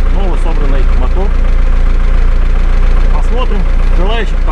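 A freshly rebuilt 1.9 L, 120 hp engine in a Subaru off-roader idles with a loud, steady low rumble throughout while someone talks over it.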